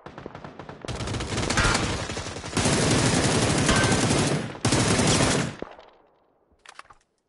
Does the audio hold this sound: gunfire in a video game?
yes